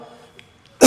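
A man teaching a class gives a single sharp cough that bursts in abruptly at the very end after near silence, close and loud.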